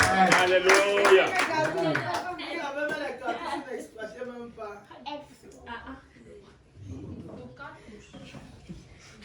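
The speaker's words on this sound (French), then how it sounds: "Applaudissez pour vous au nom de Jésus de Nazareth." Congregation clapping at a church youth convention, a burst of applause loudest at the start, then thinning as a preacher's voice talks over and through it.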